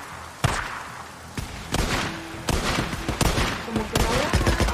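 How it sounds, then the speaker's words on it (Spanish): Loud, sharp gunshot bursts crack repeatedly over a busy, noisy Days Gone game soundscape, with voices underneath. "No te preocupes, yo le disparo."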